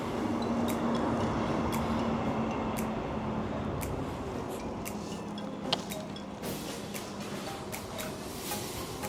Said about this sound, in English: There's the train there.